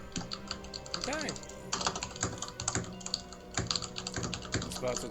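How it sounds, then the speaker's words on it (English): Rapid clicking of a computer keyboard during an online game session, irregular bursts of keystrokes close up, with a voice talking intermittently over the typing. "I can hear you typing"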